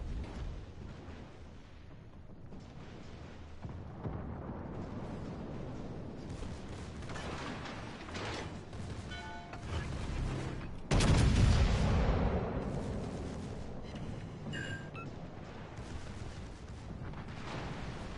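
Warship guns on a tier 7 Richelieu in World of Warships fire in a loud booming salvo with a heavy low rumble, set against constant engine and sea noise and mechanical clatter.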